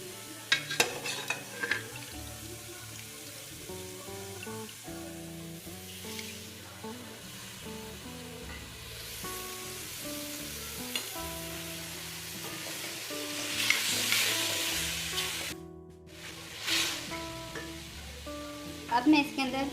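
Boiled beef fries in oil in a pot for degi yakhni pulao with a steady, close sizzle. A spoon occasionally scrapes and clinks as it is stirred, and someone speaks intermittently over the cooking.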